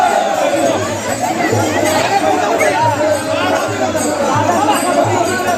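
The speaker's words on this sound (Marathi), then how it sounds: "बाबा एवढ्या गर्दी दर्शनाला जायचं म्हणजे काय" A dense temple crowd gathered for palkhi darshan fills the air with continuous close chatter and overlapping voices, a loud and unbroken babble.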